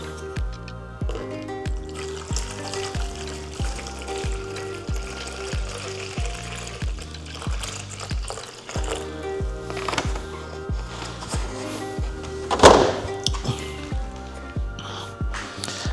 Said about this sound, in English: So I have this little bucket here, and then I fill it up with water.